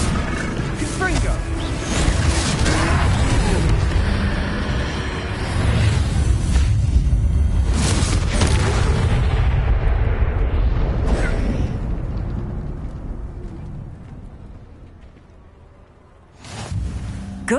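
A Confringo blasting spell in Hogwarts Legacy erupts in loud, booming fiery explosions amid combat noise, several heavy bursts rumbling then fading toward quiet before a final sharp blast, with game voices shouting over it.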